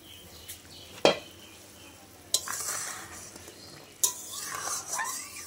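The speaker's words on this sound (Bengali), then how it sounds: "তরকারিটাও দেখো ফুটছে" A bitter gourd and potato curry simmers in a pot, a soft bubbling and sizzling broken by three sharp metallic clanks of a spoon or lid. It is fairly quiet and close, with no talking.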